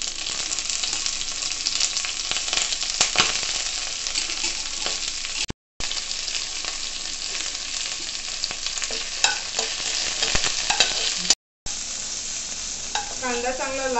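Onion and curry leaves frying in hot oil for a Malvani pomfret curry, a loud continuous crackling sizzle with occasional stirring scrapes, broken by two brief silent cuts.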